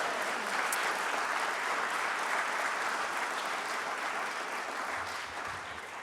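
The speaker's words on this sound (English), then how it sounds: "could I get you going to show your applause, please, to John, Megan, and the team at Grasslands" Steady, even applause from an audience at a science awards ceremony in New Zealand, sustained throughout and easing slightly near the end.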